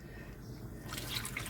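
Liquid is poured into a soup pot in a home kitchen, a faint, steady splashing trickle that grows a little brighter toward the end, with no voices.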